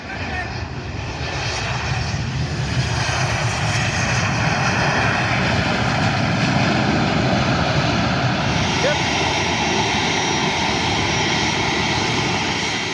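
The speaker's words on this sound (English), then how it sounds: "The first returning service, PX-154, operated by Boeing 737, arrived in Alotau this morning." A Boeing 737 jet airliner arrives at the airport in Alotau, its engines producing a loud, steady, broadband roar that fills the whole stretch without pause.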